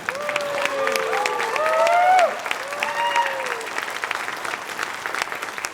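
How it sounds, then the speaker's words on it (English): A town hall crowd in Dalton cheers and applauds, sustained clapping with voices whooping and yelling over it early, the cheers fading while applause carries on steadily. "Cheer if you think that's right."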